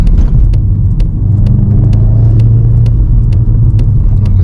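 Steady engine rumble and road noise from inside a 306 hp VW Golf R Mk7.5 being driven downhill, a loud continuous low drone with slight swells and no talk.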